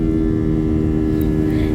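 Airbus A320 jet engines roar during takeoff, heard from a cabin seat beside the engine on a Qatar Airways flight from Calicut to Doha; a loud, steady, unbroken drone fills the whole stretch.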